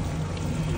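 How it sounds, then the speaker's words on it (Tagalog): Water poured into a cooking pot of boiled octopus being prepared with black beans, a short close splash and trickle lasting under a second. "Lagyan natin yung tubig."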